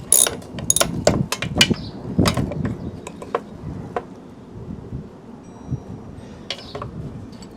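A wrench works on the carburetor of a Tecumseh LEV 120 195cc engine on a 2003 Toro 20017 mower, giving sharp metallic clicks and clanks in an irregular burst that thins to sparse, quieter taps near the end.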